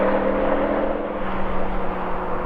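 A BMW M5 V10, AMG E55 and Audi RS6 run side by side in a drag race, a loud sustained engine roar with steady wind rush and a faint whine, no voices.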